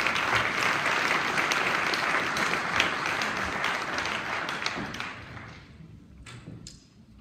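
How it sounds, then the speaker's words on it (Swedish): An audience claps to welcome a panel onto the stage at a public talk, a full steady round of applause that thins out and dies away after about five seconds, leaving a few scattered taps and knocks. "En applåd tycker jag direkt"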